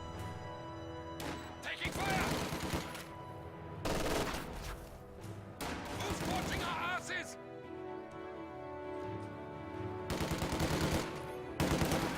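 Rapid bursts of MG42 machine-gun fire from a Company of Heroes-style strategy match ring out loudly in several clusters, mixed with other gunfire, crashes and explosions, while a commentator talks over the battle.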